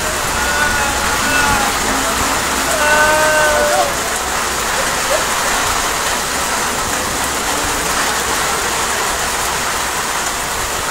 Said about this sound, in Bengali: এখানে এই বৃষ্টিটা হচ্ছে